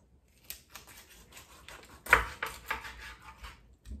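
A kitchen knife slicing across a raw whole chicken being jointed: a few quiet, close, crisp cutting and scraping clicks spread irregularly over a few seconds, with one sharper cut near the middle.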